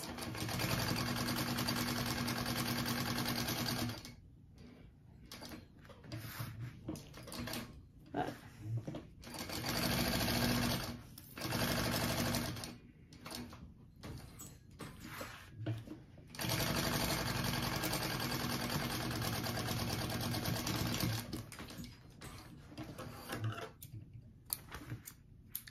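A sewing machine stitches a basting line on the center panel of a triple-zip crossbody bag, running in long steady bursts with brief pauses between them, close and clear.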